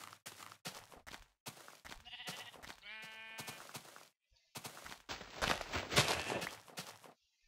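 Sheep in the video game Minecraft bleat several times in short, clear calls, mixed with blocky in-game footsteps and other game sound effects.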